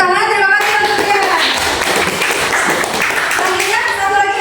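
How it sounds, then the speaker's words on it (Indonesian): A classroom audience in a grade ten Islamic religious education performance assessment breaks into clapping, fairly loud and continuous, with voices talking briefly at the start and the end. "tepuk tangan, terima kasih untuk dia."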